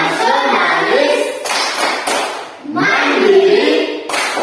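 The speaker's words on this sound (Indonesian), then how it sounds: "Bapak mengajak anak-anak sekalian untuk melakukan tepuk PPK." A classroom of children does a rhythmic clapping routine, with bursts of hand claps mixed with loud group chanting, close and energetic.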